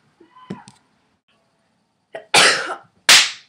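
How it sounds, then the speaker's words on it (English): A person's sneeze that comes out like a cough: a few soft throat sounds and a catch of breath, then two loud, abrupt bursts close to the listener. "My sneezes sound like coughs."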